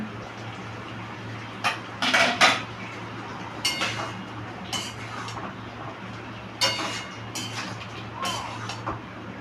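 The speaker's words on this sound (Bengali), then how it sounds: "আমি ঢাকাটাকে খুলে দিচ্ছি" A metal lid is lifted off a cooking pot of simmering vegetable chorchori, making several close clinks and scrapes of metal on metal over a low, steady kitchen hum.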